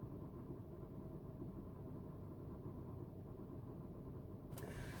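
A parked car's engine idles in a steady, faint low rumble throughout, with a short click near the end.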